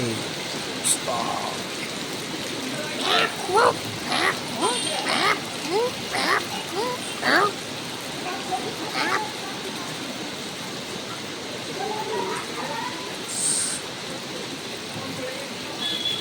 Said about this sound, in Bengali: বৃষ্টি সেই লেভেলের বৃষ্টি একটু থেমেছে মনে হচ্ছে